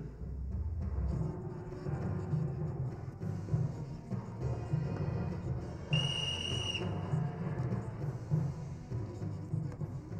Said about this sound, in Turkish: Ulan Zülfü, senin düdüğünü bir elime geçirirsem.